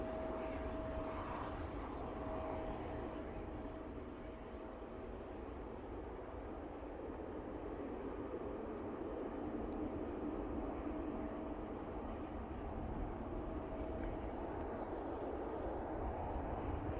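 Aircraft taxiing off the runway onto a taxiway at East Midlands Airport in the evening, a continuous low engine rumble and hum held at steady volume at some distance, with no voices.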